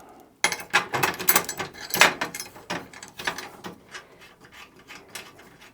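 Clamps being tightened down onto a Mac Industries weld table fixture plate, giving a series of close, irregular metallic rubbing and scraping bursts with short clicks, fading lower toward the end.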